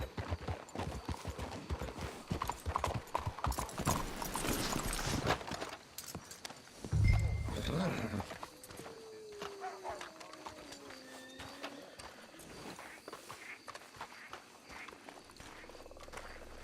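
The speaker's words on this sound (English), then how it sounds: "Let's hitch the horses up ahead." Horses walking in the game Red Dead Redemption 2, a steady clip-clop of hooves with a brief whinny and ambient wildlife, heard at moderate distance with no talking.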